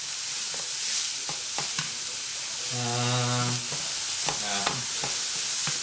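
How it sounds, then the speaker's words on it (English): Meat fries without oil in a pot, giving a steady close sizzle and hiss broken by scraping stirs, with a short tonal hum in the middle. "fry meat when you're not using any oil"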